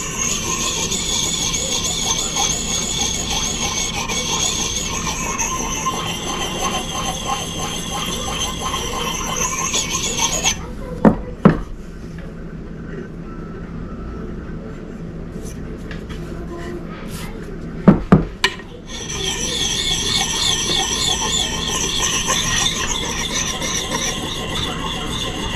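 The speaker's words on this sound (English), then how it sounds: "Start sharpening this thing." A file rasps along the edge of a Gransfors Bruk small forest axe in long, rhythmic squealing strokes, stopping midway for a quiet pause with a few sharp knocks, then resuming.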